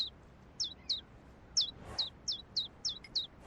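Birds in a video game give a run of bright, quick chirps, about ten short calls in an uneven rhythm, clear and close against a quiet background.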